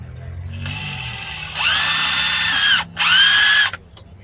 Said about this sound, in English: I don't even know if this will show me drilling it.